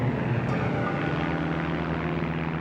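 A propeller aircraft, a wartime bomber, drones steadily as it circles, a loud, continuous engine hum with a throbbing low tone and no break.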